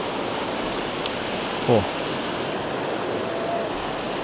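Water overflows a long weir in a rural mountain-valley village with a steady, close rushing roar, and a voice briefly exclaims over it.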